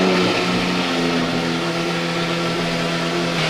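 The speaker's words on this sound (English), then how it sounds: "the SV startup you just heard" A Lamborghini Aventador SV engine droning loud and close with a steady tonal hum and slight revving, filling the whole moment without talk.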